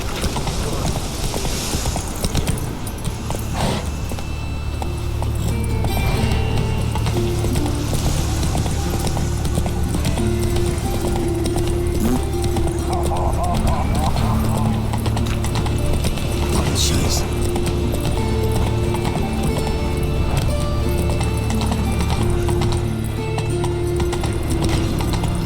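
Geralt's horse Roach galloping in The Witcher 3, a steady rhythmic clip-clop of hooves under game music and ambience, with a voice talking over it.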